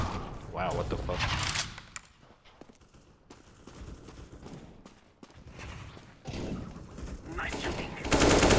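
Gunfire in Counter-Strike: Global Offensive, loud bursts of rapid shots at the start and again near the end with a quieter stretch between, mixed with game sounds and a voice talking.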